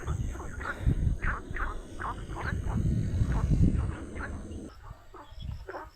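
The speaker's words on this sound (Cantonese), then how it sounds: "啲青蛙好似識講人話" Frogs croak in wet farmland along a Hong Kong hiking trail, a chorus of repeated short calls in uneven rhythm over a dull background, fairly close and moderately loud.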